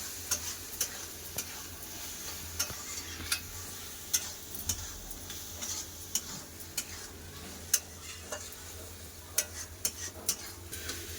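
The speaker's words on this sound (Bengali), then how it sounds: "পোস্ত দিয়ে আলু ঝিঙা ভালো করে পোস্তর সাথে কষে নেব" Ridge gourd and potato stir-fried with ground poppy seed paste, a soft low sizzle under regular sharp ticks and scrapes of a spatula against the pan, with nobody talking.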